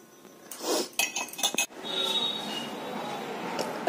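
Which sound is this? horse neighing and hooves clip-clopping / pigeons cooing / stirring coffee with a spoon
stirring coffee with a spoon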